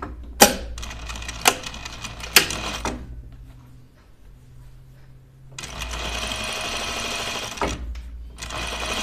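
A sewing machine stitches a coat pocket lining in two bursts, the first broken by sharp clicks, then a quiet pause with a low hum before the motor runs again steadily and close.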